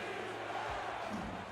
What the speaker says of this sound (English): Crowd on their feet here in Homa.